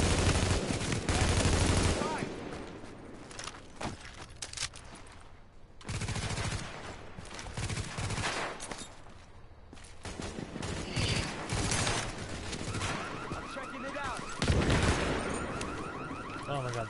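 Gunfire in Tom Clancy's The Division, in a Lincoln tunnel mission, with bursts of shots across a loud, dense game soundscape, broken by brief lulls, and a player talking over parts of it.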